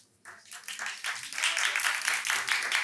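A studio audience on a Turkish late-night talk show bursts into applause, starting with scattered claps and swelling into a dense, steady wash of clapping that holds strong to the end.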